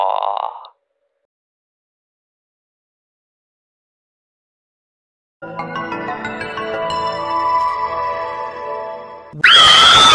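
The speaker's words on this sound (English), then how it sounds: "What's all the screaming for?" A loud high-pitched scream bursts in at the end after a long silence and a stretch of tonal music, brief and close.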